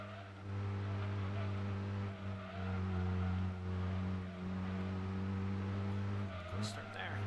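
Steady drone of a car engine in the racing game Gran Turismo 2, a sustained even hum holding at constant pitch throughout, fairly quiet, with a brief change near the end.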